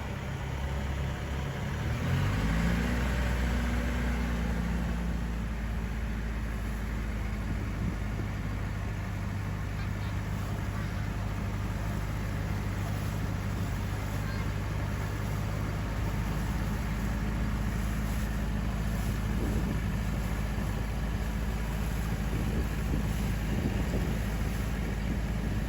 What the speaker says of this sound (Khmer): គេថាសំឡេងម៉ាស៊ីនទូកលឺខ្លាំងមែនទែន